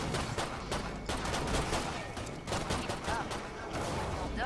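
Rapid gunfire from zombie shooting in the game Killing Floor 2, dense overlapping bursts filling the scene continuously, loud and close with brief lulls.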